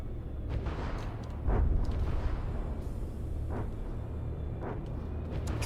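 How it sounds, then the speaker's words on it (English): Heavy battleship guns firing in a naval battle in From the Depths, a dense rumbling barrage of booms with one stronger blast near the start and further shots spaced through a continuous low roar. "I'm just going to manually coordinate the battleship's guns."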